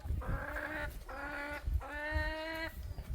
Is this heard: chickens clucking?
yes